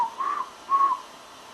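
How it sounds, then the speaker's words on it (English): Tencent, a character, gives two short rising whistles to get attention, close and fairly quiet with a brief pause between them. "So he whistled."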